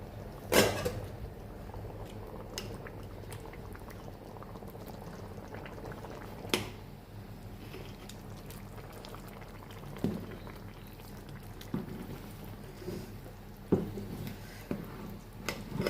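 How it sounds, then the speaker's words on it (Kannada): A large pot of rice boils with masala-spiced water for chicken biryani, giving a steady close bubbling with a few sharp clatters of a lid or utensil. "ನೋಡಿ, ಅನ್ನ ಕುದೀತಾ ಇದೆ."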